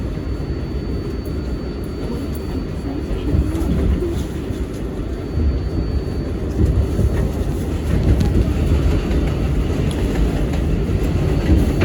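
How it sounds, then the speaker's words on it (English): An R188 New York subway 7 local train running on rails, a loud, steady low rumble with rattling wheel and car noise throughout, with no clear talk. "This is a Manchester Bound 7 local train."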